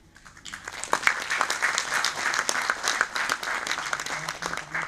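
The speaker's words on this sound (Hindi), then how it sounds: "एक बार जोरदार तालियां हमारे अभिजीत के लिए।" Sustained audience applause, many hands clapping densely at a steady loud level throughout, with a brief faint voice underneath.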